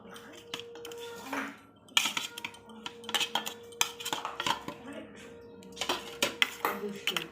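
Katla fish stirred with onions in a metal pan, a spatula clinking and scraping in irregular bursts of sharp metallic knocks, close and moderately loud, with a voice talking between the strokes.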